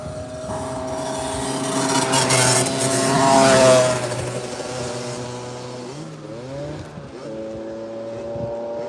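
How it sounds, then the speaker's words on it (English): Loud motorbike engines roar by close up beside the Kemi River near Rovaniemi, rising to a peak and fading, followed by another engine revving and shifting as it passes. "The loud noise of the bikes"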